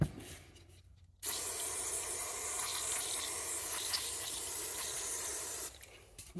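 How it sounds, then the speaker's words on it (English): Carb cleaner hisses from an aerosol can onto a Troy-Bilt chainsaw in one long steady spray of several seconds, close and fairly loud, opening and closing on quieter room tone. "enough carb cleaner used"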